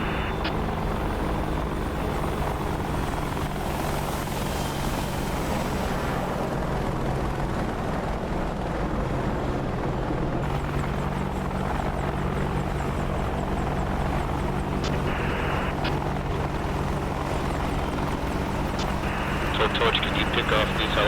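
Steady, loud helicopter rotor and engine drone fills the whole stretch without letting up, with faint voice chatter mixed underneath.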